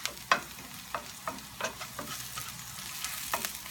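Cumin seeds crackle in hot oil for a chana masala, with a steady sizzle and scattered sharp pops and stirring scrapes, close and moderately loud, with no talking.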